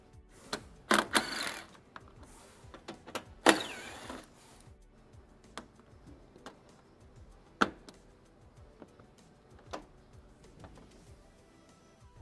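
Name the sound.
removing plastic push pins and 10mm bolts from Subaru bumper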